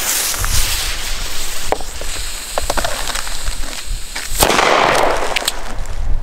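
Klasek Vulcan Reuzen Astronaut firecrackers set off outdoors, giving a few sharp, loud bangs and pops over steady background noise and hiss.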